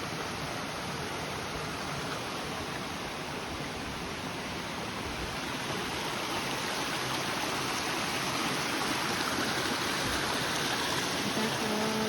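Small waterfalls spill down through rocks, giving a steady, loud rush of broadband water noise that holds constant throughout with no voices.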